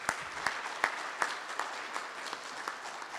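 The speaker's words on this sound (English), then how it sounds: "Can we give them a round of applause?" Applause from an audience at a school band and choir banquet honoring first-year color guard members, a fairly quiet, steady patter of many hands with scattered sharper claps, no voices over it.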